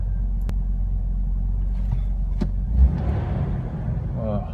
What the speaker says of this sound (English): Alright, I'm gonna drive it around at this.